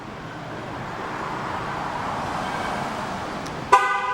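A steady wash of outdoor traffic noise, then a single short horn chirp from a 2011 Cadillac CTS Coupe locking itself near the end, close by and fairly loud.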